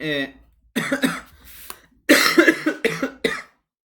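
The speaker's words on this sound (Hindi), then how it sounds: "खांसी आ रहा है, इसकी वजह से प्रॉब्लम हो रहा है मुझे" A few harsh coughs sound close to the microphone, broken up by short pauses.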